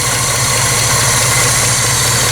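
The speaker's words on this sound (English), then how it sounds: "Still hearing a kind of a ticking noise that makes me think it's an exhaust leak on the manifold." A Chevy C20 pickup engine idles steadily after sitting for 19 years, a loud close low rumble with a suspected exhaust manifold leak ticking; no talk.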